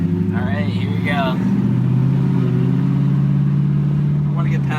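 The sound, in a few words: Pontiac GTO car driving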